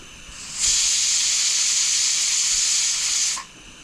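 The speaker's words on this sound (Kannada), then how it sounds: "whistle ready one whistle second whistle two more ನಮ್ಮ ಪಲಾವ್ ರೆಡಿ" A pressure cooking pulao outdoors near a dam lets out a loud, steady hissing whistle of escaping steam that rises sharply, holds for nearly three seconds, then cuts off abruptly.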